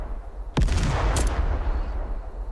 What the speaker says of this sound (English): Oh, I just heard a gunshot.